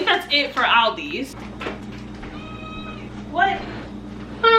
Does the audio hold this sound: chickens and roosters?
no